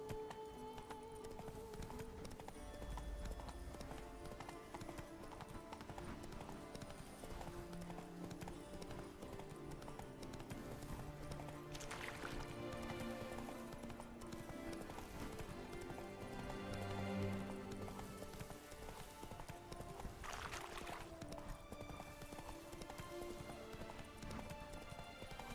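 Roach the horse gallops in the video game Witcher 3, with a rapid, continuous clip-clop of hooves alongside a neigh and game sounds. A brief shout is heard near the start.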